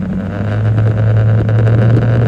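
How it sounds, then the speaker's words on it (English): A loud, steady Ford Thunderbird engine drone with a deep exhaust rumble, heard up close from inside the accelerating car with the window down, with some wind noise and no talking. "Main reason I have my window down is just to hear the exhaust"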